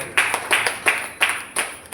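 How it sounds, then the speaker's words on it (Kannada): Rhythmic clapping in six or seven sharp, evenly spaced bursts, loud and close, from a small group with no talking over it. "ಜೋರಾಗಿ ಚಪ್ಪಾಳೆ"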